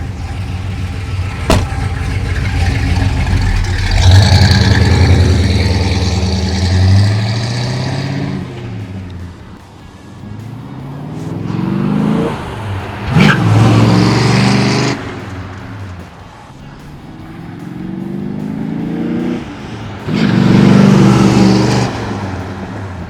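A 1963 Ford Galaxie 500XL R-Code V8 roars past in repeated drive-bys, engine swelling loud as it approaches, revving through gears, then fading away before the next pass.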